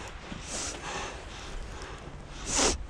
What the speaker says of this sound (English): sniff a lot like that because I did not take my allergy medicine, and it's really cold out.